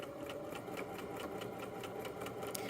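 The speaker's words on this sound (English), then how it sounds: "I'll just sew the rest of this line with 1/4 inch seam allowance" A sewing machine runs steadily at close range, stitching a 1/4-inch seam across the top of a hoodie pocket, its needle ticking in a fast, even rhythm over a constant motor hum with no speech.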